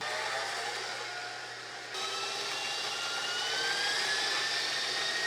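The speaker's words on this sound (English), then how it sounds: "While my mixer is working" Electric stand mixer creaming butter and sugar for Christmas cookies runs with a steady whirring motor drone and faint whine, continuous and moderately loud throughout, no voices.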